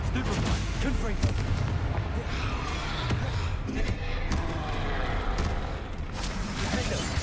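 Repeated Confringo fire-spell blasts from the Hogwarts Legacy video game, dense booming bursts layered over continuous battle noise and a steady low rumble throughout, loud and busy with no pauses.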